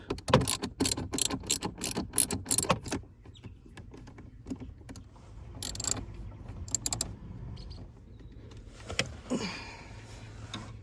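A ratchet backs out two 5.5 mm screws from the cabin air filter cover on a GMC Terrain or Chevy Equinox, with quick close clicking runs, pauses and soft plastic handling noises.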